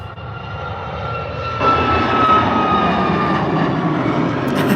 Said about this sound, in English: Ryanair 737.